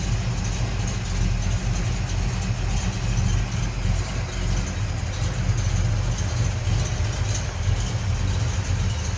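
A 1974 Dodge Dart Swinger coupe with a 360 Mopar V8, cam, headers, Mopar intake and carburetor idles loudly and steadily with a deep, slightly lumpy rumble.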